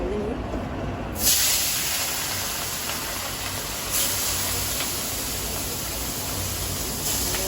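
Small fish, rubbed with turmeric, salt and chili, drop into hot oil in a wok with a sudden loud hiss that settles into a steady, close, spattering sizzle, with one or two brief flare-ups.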